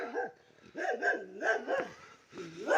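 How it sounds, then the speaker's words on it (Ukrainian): A stray dog resembling a shepherd, met on an abandoned plot, gives a run of several close, fairly loud barks and yelps in uneven bursts with short gaps between them. "За мною, кстати ув'язався якийсь п'ясик, похожий на овчарку."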